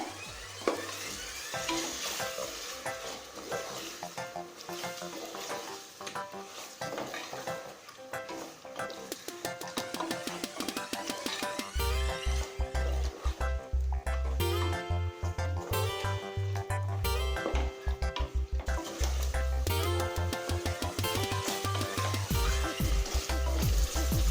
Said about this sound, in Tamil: இப்போ மட்டனை நல்லா வதக்கிக்கலாங்க.